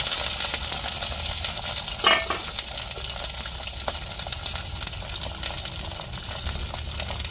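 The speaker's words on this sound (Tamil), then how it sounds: "அதுக்கப்புறம் வெங்காயம் சேர்த்துக்கிடுவோம்" Onions with fennel and bay leaf frying in hot oil for a mutton dish, a continuous close sizzle with a brief stirring clatter near the middle and small scrapes throughout, no voices.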